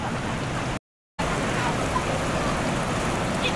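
Steady rain falls in a Kulim, Kedah neighbourhood, a dense, even hiss that runs throughout apart from a brief dropout of silence near the start.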